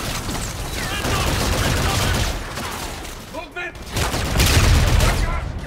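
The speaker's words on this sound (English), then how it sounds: "I'm getting shot from up there." Sustained rapid gunfire from Call of Duty: Infinite Warfare, dense overlapping bursts and rattling shots that stay loud nearly throughout with a brief lull midway, mixed with battle noise and occasional voices.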